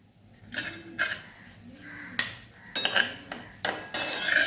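A spoon scrapes and clinks against a pan while semolina sheera is stirred with sugar, with irregular metallic taps and scrapes at close range and no talking.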